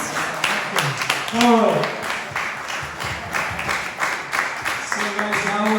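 A live audience at a film Q&A with American and Dutch directors gives a round of applause, a steady wash of clapping with voices and cheers mixed in, close and fairly loud throughout.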